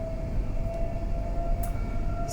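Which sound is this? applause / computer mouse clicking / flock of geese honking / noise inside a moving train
noise inside a moving train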